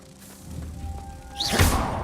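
A Confringo blasting spell in a Hogwarts video game builds with a soft rising whoosh, then lands as a single heavy thump and burst of noise before fading out.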